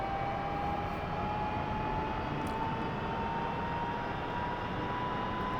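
UH-1 helicopter turbine engine starting with rotor blades beginning to spin, a faint steady whine climbing slowly in pitch over a broad rushing roar, with no voices.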